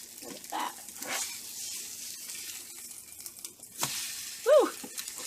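Stuffed French toast with pumpkin pie cheesecake filling sizzles gently in a frying pan after being flipped, a soft steady crackle with a few louder spits and brief clinks near the end.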